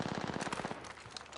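Rapid gunfire from the Vantage character in a battle-royale shooter, a quick burst of sharp repeated shots in the first half of the clip, then fainter game noise and scattered clicks.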